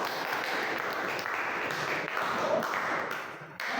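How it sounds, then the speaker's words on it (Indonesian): Applause from an audience at an Indonesian school presentation on coding and artificial intelligence, a steady broadband wash of clapping lasting throughout, fairly even in loudness and cut off near the end. "Tepuk tangan dulu semua."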